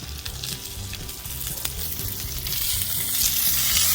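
Salmon fillets sear in a hot pan with a continuous crackling sizzle that swells louder toward the end, close by and with no voices.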